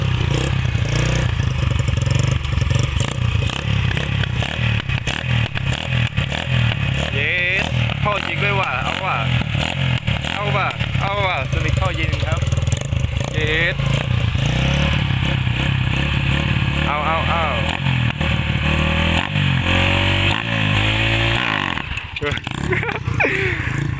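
A Honda Wave 110i motorcycle with a 53mm bore and a can exhaust revs repeatedly up close, its loud buzzing engine rising and falling in quick blips, with people talking over it throughout.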